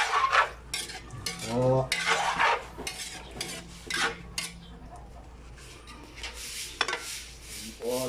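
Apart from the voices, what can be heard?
stirring food in a pot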